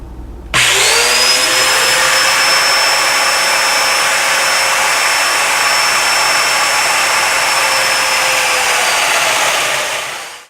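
A domino joiner cuts mortises in wooden table legs for an extending table. Its motor spins up sharply to a loud, steady high whine that holds for about ten seconds, then winds down, with no voices.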